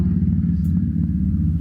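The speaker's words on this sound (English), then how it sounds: "I also live on a main road, so you're going to hear lots of traffic noises" Traffic on a main road makes a steady low rumble of passing vehicles, a continuous engine drone heard close and fairly loud, with no talk over it.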